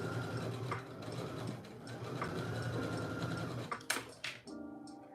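A sewing machine stitches sweatshirt fleece with a faint, steady mechanical whir. It stops near the end, followed by a few clicks and handling noises.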